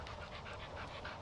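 A dog pants in steady, rapid rhythmic breaths, close but quiet, during leash training outdoors while other dogs pass.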